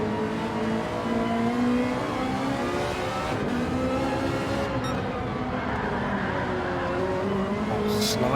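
A Ferrari race car at a Ferrari E Challenge Livestrong event drives through S-bends, its engine a continuous, steady roar with rising and falling pitch as it brakes and slides through the turns.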